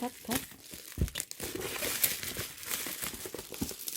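Taped cardboard toy box for a dance toy being opened, with loud crinkling and ripping of tape and packaging close by, continuing for several seconds in busy bursts.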